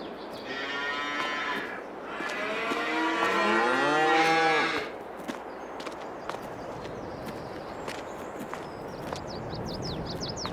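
A cow in Farming Simulator 22 moos loudly in a long, drawn-out call lasting several seconds, then quiet outdoor ambience with scattered faint clicks and taps.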